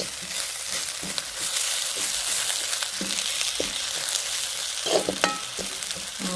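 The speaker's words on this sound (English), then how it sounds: "then we're going to add our coconut" Vegetable cook-up sizzling and frying steadily in a hot pot as fresh coconut milk goes in, with a constant hiss broken by stirring scrapes and a few brief louder pops near the end.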